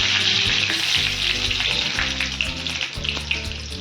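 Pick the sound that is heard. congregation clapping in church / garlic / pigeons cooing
garlic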